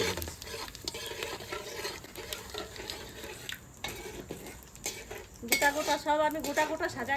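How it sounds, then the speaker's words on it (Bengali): Whole spices, dried red chillies, bay leaves, garam masala and cumin, frying in hot oil left from frying potatoes, with a spoon stirring and scraping the pan under a crackling sizzle that grows louder toward the end, no talking. "আলু ভেজে নিছি ওই তেলেই ফোড়ন দিয়ে দেবো"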